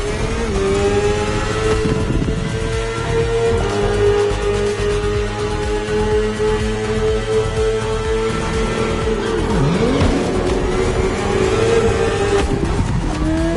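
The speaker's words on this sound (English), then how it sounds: "The one you're riding is the S1000RR. It's what we call a superbike." A BMW S1000RR superbike revs steadily in The Crew Motorfest racing game, a loud, continuous engine drone whose pitch climbs and dips near the end, with no voices.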